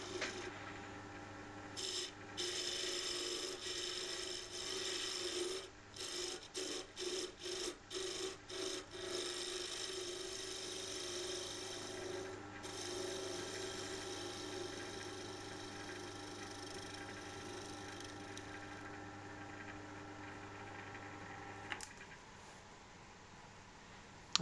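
Spindle gouge cutting spruce softwood on a wood lathe, a steady close rasping and scraping over the humming machine, briefly stuttering in short pulses before continuing evenly.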